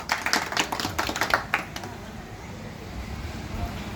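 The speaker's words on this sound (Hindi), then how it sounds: "तालियां हो जाएं कुछ।" Brief scattered clapping from a modest gathering breaks out during a garlanding celebration at an Indian farmers' union event, lasting under two seconds before giving way to background murmur and noise.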